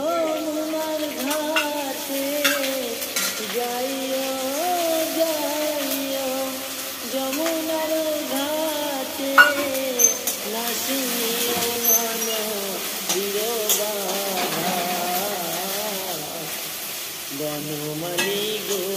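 A paste of onion, garlic, ginger and spices sizzles and fries in a pan with steady hiss and stirring scrapes, under a song playing throughout.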